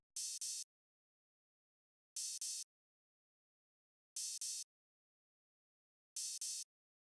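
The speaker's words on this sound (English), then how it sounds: "I just played this very simple open hat pattern just to complement the rest of the drums." Simple open hi-hat pattern for a type beat, paired double hits repeating every two seconds, crisp and isolated against silence.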